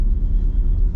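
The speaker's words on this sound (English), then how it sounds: "I have a bad muffler on my car now." A car with a bad muffler gives off a loud, close, low, throbbing exhaust rumble for about a second.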